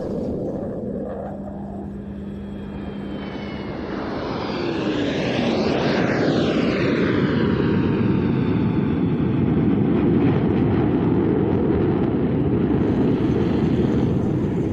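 A military jet flies a slow roll at a Leszno airshow, its loud, sustained roar swelling and sweeping in pitch as it passes, broad and continuous for the whole stretch.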